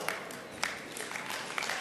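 An audience applauding at a network marketing seminar: a short stretch of steady, dense clapping from a crowd, fairly soft and even, with no one speaking over it.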